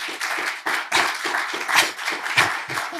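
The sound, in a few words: audience applause for the panelists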